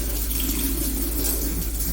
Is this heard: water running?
yes